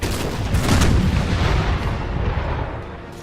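Artillery fire from a battle in Empire: Imperial Splendour rolls on as a loud, continuous barrage of booming cannon blasts and rumbling concussions. It fades slightly toward the end, with no voices over it.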